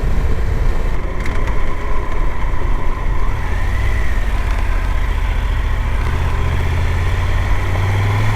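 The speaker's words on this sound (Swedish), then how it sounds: "Nu ska vi köra motorcykel." A motorcycle engine running on a solo tour through Norway, a loud, dense, steady rumble with constant wind roar and no speech.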